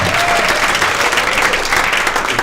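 Steady audience applause fills a conference hall at a sponsored identity-technology event, dense and continuous clapping from a crowd with no pauses throughout.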